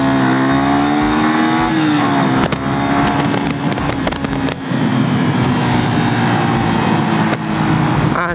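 A motorcycle engine accelerating hard at high speed on a road ride, loud and close, its pitch rising and falling between gear shifts under heavy wind rush, with no talking.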